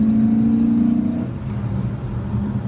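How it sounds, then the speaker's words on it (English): A Dodge Challenger Scat Pack with a 392 V8 accelerates under power, its engine tone climbing briefly and then settling into a steady, close exhaust rumble after the shift. "Car drives straight, rose into power as I get on the gas."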